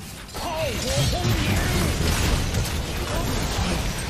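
Cannon fire from Gangplank in League of Legends booms and bursts in a thick, continuous barrage of explosions and crackling impacts, loud and close, with a voice faintly mixed in.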